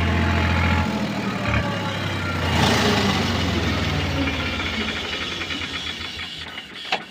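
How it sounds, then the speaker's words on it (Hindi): A Powertrac Euro 50 Next tractor engine runs steadily nearby with a deep, continuous rumble and a hissing wash over it, holding fairly even throughout before a few faint clicks near the end. "ट्रैक्टर तो खुल के चल रहा है जी बिल्कुल"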